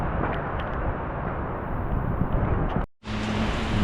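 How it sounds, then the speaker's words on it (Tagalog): Strong typhoon wind in Daet buffets the microphone with a loud, continuous roar and rumble, cutting out briefly near the end before resuming just as heavily. "Kasi malakas pa yung hangin."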